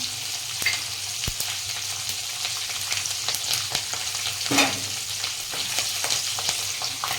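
Sesame seeds, chopped green chili and curry leaves sizzle and crackle steadily in hot oil, with sharp pops scattered throughout and a louder burst of spattering midway.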